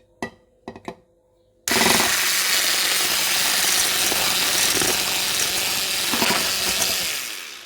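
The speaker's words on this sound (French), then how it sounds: "Maintenant, on va le battre un tout petit peu, puis mélanger après avec" A loud, steady electric mixer whips cocoa butter into a chantilly-style cream, starting abruptly after a few faint knocks and running continuously for several seconds before easing off at the end.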